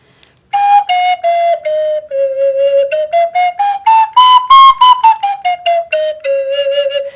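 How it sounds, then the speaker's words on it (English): A flutophone, a bright, reedy wind instrument, plays a run of short notes, rising then falling in pitch, each note distinct and fairly loud, with no one talking. "It's not too bad for a flutophone. It gets one note above an octave."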